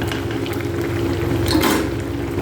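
Vegetables boiling in a pot, a steady close bubbling burble with low hum and a soft clink of utensils partway through.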